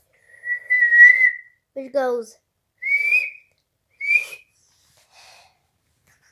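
A man reading a children's train story whistles to imitate a train guard's whistle. A long steady note is followed by a few shorter whistles, with a brief spoken bit between them. The whistling is clear and close against quiet.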